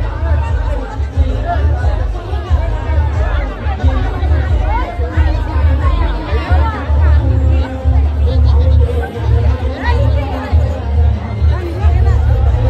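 Dense crowd chatter at a village temple fair for the goddess, many overlapping voices forming a loud, continuous babble close around, with occasional nearer voices standing out.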